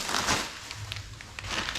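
Plastic bag and bubble wrap around a steel downpipe for a Nissan 300ZX twin turbo being handled up close, giving loud crinkling and crackling bursts with brief pops, fading midway and then picking up again.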